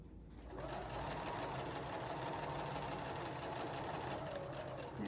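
Sewing machine stitching a quarter-inch seam through blue-green quilting cotton, running steadily and continuously at close range with a dense mechanical whir and rapid needle rhythm throughout.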